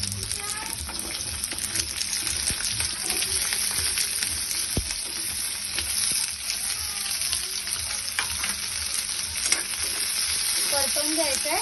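Onions sizzle and fry in a pan with ginger and dried green chillies for mushroom masala, a steady close crackling hiss with scraping stirs and occasional clinks, while a voice talks faintly underneath.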